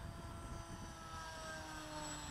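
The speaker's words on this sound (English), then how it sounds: "the propeller is a bit noisy" HobbyKing Bix3 RC model airplane flying overhead with an unbalanced, noisy propeller, a steady moderately distant buzzing whine with drifting tonal pitch lines over a constant engine hum.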